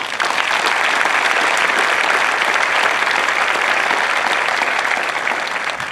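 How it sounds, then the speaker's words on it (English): Sustained, loud applause from a large crowd at an Air Force basic training graduation parade, honoring veterans, with dense steady clapping filling the space throughout. "Round of applause for our veterans."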